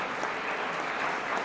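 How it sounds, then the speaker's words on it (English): A congregation at a church bicentennial program stands and claps for honored award recipients, a full, even wash of applause that fills the room without a break. "Please stand so that we can give them a round of applause."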